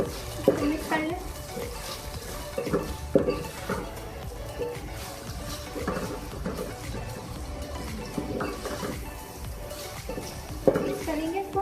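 Chicken vegetable macaroni with green onion being stirred in a pan, with repeated scraping and clinking of a utensil and a soft sizzle underneath, while someone talks over it.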